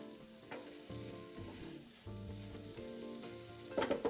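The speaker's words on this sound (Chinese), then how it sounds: "将锅里食材稍作翻拌，直到锅里食材完全变软后，这沙葛内馅就算完成了。" Jicama filling sizzles softly in a pan as it is stirred with a spatula, giving a continuous low frying hiss broken by gentle scraping strokes and a few brighter clatters near the end.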